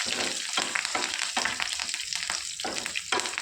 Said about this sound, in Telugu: తర్వాత కొద్దిగా కరివేపాకు వేసుకొని తాలింపును దోరగా వేయించుకోవాలి.